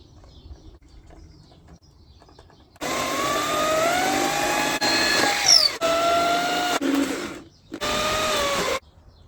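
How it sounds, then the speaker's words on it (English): Power drill boring holes into a desk chair base made from a Saab car seat, running in several loud sustained bursts with pitch sweeps as the bit bites, separated by brief pauses. "I'll mark the holes, and after that I'll drill them"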